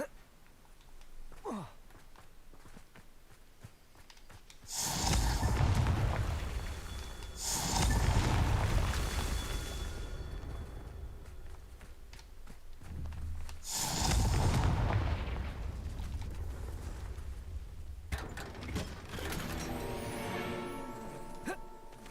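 Confringo fire spells blasting in Hogwarts Legacy, heard as several loud booming explosions in bursts, each a broad roaring blast with a decaying rumble, separated by quieter ambient stretches.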